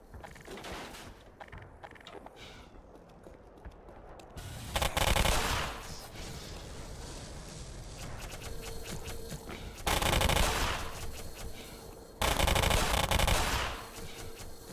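Automatic weapon fire in the video game Black Mesa, with several loud bursts of rapid shots separated by quieter stretches of mechanical game ambience, each burst lasting a second or two.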